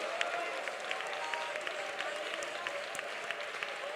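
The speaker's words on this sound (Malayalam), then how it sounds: "കൈയടിച്ച് ഉറക്കെ സ്തോത്രം പറ." A church congregation at a prayer centre claps hands together in sustained, lively applause, a dense, even patter of many hands at moderate distance, with voices faintly mixed in.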